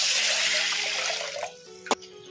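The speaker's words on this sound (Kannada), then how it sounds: "ಈಗ ನೀರು ಹಾಕಿ ತೊಳ್ಕೊಂಬಿಡೋಣ." Water runs steadily over toor dal lentils in a cooker as they are washed, a broad gushing rush that cuts off midway, followed by a quieter pause and one short splash.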